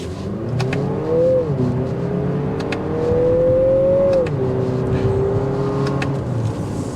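A 2024 Lexus NX 350 F Sport turbo in Sport S Plus mode accelerates hard, its engine note climbing steadily and then dipping at two gear shifts, loud and close with no talking.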